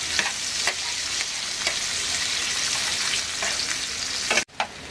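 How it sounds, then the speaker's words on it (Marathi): Onions frying in a pan over a gas flame on high heat, a steady close sizzle with occasional stirring scrapes and a brief break near the end. "आता हे 2 मिनिटं गॅस फास्ट करून शिजवायचे आणि त्याच्यानंतर गॅस स्लो करायचा आणि थोडे ते कांदे शिजवून घ्यायचे"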